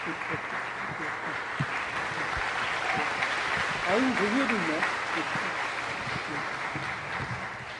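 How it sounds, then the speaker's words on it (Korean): A crowd of students claps to welcome the Seoul mayor onto a youth talk-show stage, steady applause running throughout with a few cheers and voices mixed in. "여러분 큰 박수로 맞아주세요."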